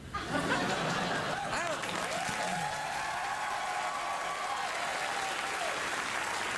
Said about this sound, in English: I think it's okay if they applaud.